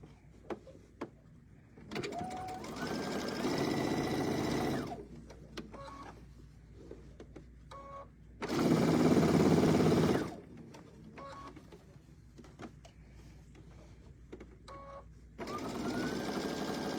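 A sewing machine top stitches along a fabric fold to form a drawstring channel on a mini bucket, running in three steady, close bursts with quiet pauses between them and no talk.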